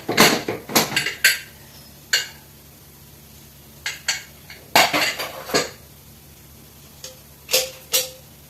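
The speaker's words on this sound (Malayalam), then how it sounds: "ഇനി നമുക്ക് കുക്കർ ഒന്ന് തുറന്ന് നോക്കണം" Pots and metal utensils clatter and clink in a home kitchen as a pressure cooker of chicken is opened, with sharp scattered bursts of clanking separated by short pauses, close and fairly loud.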